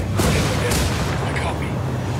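Heavy automatic gunfire and booming shots from a firefight in the Ghost Recon Wildlands video game, loud and dense throughout, with bursts blending into a continuous roar and voices mixed underneath.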